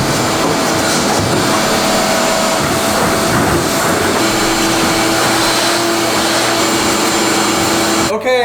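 A vacuum cleaner runs loudly and steadily throughout, sucking up collected dust in an attic, with a constant broadband roar and a brief change near the end.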